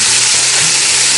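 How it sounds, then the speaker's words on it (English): Chicken browning in a Dutch oven over a campfire gives off a loud, dense, constant sizzle that fills the whole short moment up close. "Right, got a nice sizzle going on."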